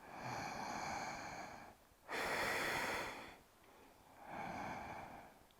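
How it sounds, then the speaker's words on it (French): Slow, deep breathing during a hip-opening yoga pose, several long airy inhales and exhales heard close up and fairly quiet, with no talking. "on ouvre la hanche droite, et on respire profondément"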